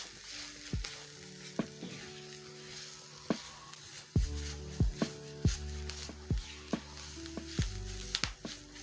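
Spices and a seasoning cube being stirred into a hot, sizzling pan, a low steady frying hiss broken by repeated sharp scrapes and knocks of a utensil against the pan.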